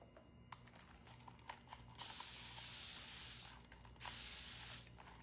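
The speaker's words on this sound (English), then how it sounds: "you're going to take it and spray it" Hand spray bottle misting water onto softened material, a few short puffs followed by two longer hissing sprays, close and fairly quiet with no talk.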